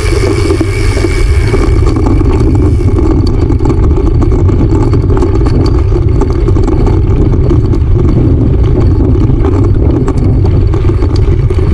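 Motorcycles on a club's group anniversary ride give off a loud, continuous, close engine roar with steady droning throughout.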